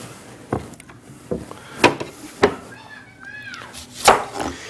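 A knife chopping onions makes a handful of sharp, separate thuds on a board at uneven intervals, close and fairly loud, with a faint cat-like meow between strikes.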